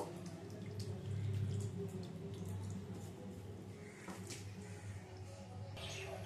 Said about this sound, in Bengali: এখন দিয়ে দেবো এর মধ্যে জল। জলটা দিয়ে ভালো করে মিশিয়ে নেব।